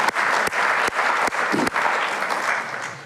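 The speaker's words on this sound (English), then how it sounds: "So give yourselves a round of applause." An audience at a student culminating event bursts into applause for the students, a steady dense wash of clapping that carries on for about three seconds and starts to thin toward the end.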